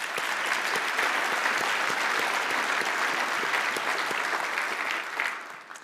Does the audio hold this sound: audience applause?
yes